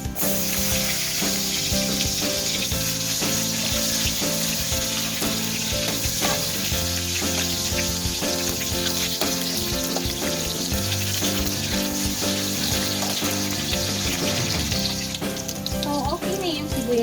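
Onions sautéing in a pan for a stew of water spinach with egg and tofu, giving a loud, dense, continuous sizzle and crackle heard up close throughout.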